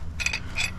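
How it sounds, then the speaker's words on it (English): A pipe wrench snugs a replacement muffler into the exhaust port of a lawn mower, giving two or three short metallic ratcheting clicks and scrapes close by over a low background rumble. "And we'll use the pipe wrench, but don't do too tight"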